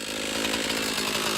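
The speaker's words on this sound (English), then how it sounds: "here's the chainsaw" A chainsaw runs steadily during stand work in the woods, a continuous buzzing motor drone with a gritty rasp, held at an even level throughout without pauses or voices.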